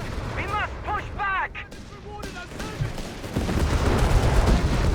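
Gunfire from the strategy game Company of Heroes 3 as British troops mow down Italian infantry, a steady rattle of shots and rumbling battle noise beneath in-game voice callouts, growing denser and louder toward the end.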